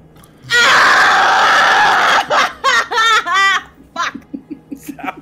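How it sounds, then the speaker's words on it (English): A loud, sustained human scream rings out close up for well over a second, then breaks into several bursts of laughter from a group of people at a tabletop game session. "That was a loud scream."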